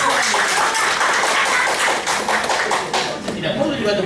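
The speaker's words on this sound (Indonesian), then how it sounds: "tidak perlu juga tepuk tangan" Supporters clap in a hearing room, a dense, steady patter of many hands under continuous speech, loud and sustained throughout.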